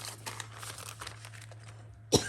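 A single sharp cough bursts out near the end of a quiet stretch of papery rustling during bookbinding work, close and fairly loud against a steady low hum.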